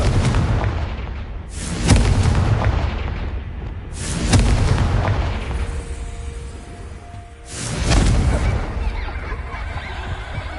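Confringo spell blasts in Hogwarts Legacy: three heavy explosive booms spaced a few seconds apart, each followed by a rumbling decay over a low background.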